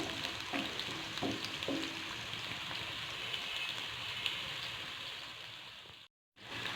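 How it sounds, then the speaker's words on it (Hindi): Chopped onions fry in two spoons of ghee in a pan, giving a steady, close crackling sizzle with a few soft stirring knocks early on and a brief dropout near the end. "एक पैन में हमने 2 चम्मच घी ऐड किया है, फिर उसमें हमने प्याज ऐड किए हैं,"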